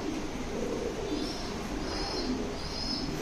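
Low, soft cooing from American Modena pigeons, an opal Modena male and a classic almond female, runs steadily through the clip alone, with no voices over it.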